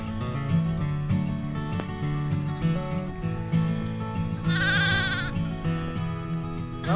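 A Katahdin sheep bleats loudly once, close by, over a steady background hum with faint scattered clicks.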